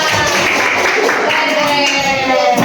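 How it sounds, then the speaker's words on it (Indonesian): A classroom group of students claps for a presenting group after a class presentation, a brief burst of dense clapping with a few voices mixed in. "Tepuk tangan untuk kelompok 4"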